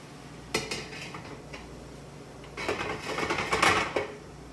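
A metal cover is set onto a canner holding jars of maple blueberry jam, with a clank followed by a cluster of nearby rattling and scraping metal knocks as it settles into place.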